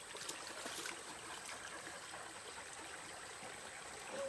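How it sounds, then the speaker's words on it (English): A creek flows steadily in a faint, continuous trickle, with no clear drinking sounds from the dog standing in it. "We got that creek down there."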